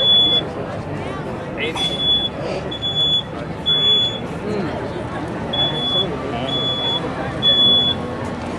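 A smoke alarm sounds in a dorm room fire simulation, repeated short high beeps at a steady rhythm, moderately loud beneath ongoing talk and background babble.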